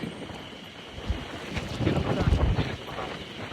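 Strong wind rushes across the microphone outdoors in Nasushiobara, Japan, a steady roar that builds louder in gusts toward the end.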